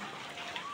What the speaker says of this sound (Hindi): अभी यहाँ हो गई बारिश